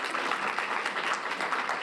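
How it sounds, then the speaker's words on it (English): Audience applause for a panel at an HBCU Week event at the University of Arkansas at Pine Bluff: dense, steady clapping from a crowd, fairly close and even throughout, with no voices over it. "Please give them another round of applause."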